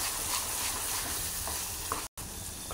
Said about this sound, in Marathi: मसाला चांगला तेल सुटस तर भाजून घेऊया. मसाला भाजत आहे.